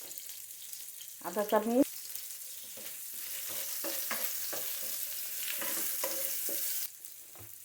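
Chopped onion frying in oil for a fish curry, a soft continuous sizzle with light stirring, and someone speaking briefly over it near the start.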